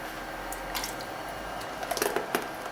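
Spoonfuls of whipped egg white for floating islands drop onto the surface of water, a series of faint, soft wet plops and small splashes clustered near the end over a low background hum.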